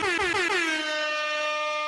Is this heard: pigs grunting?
no